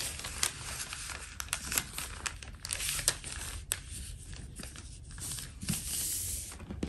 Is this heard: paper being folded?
yes